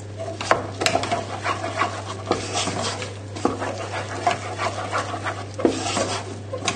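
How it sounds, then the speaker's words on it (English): Parmesan is stirred into cooked potatoes with a spoon, giving soft scraping and rubbing strokes against the pan under a steady low hum, with a few sharper knocks. "just stir in the parmesan"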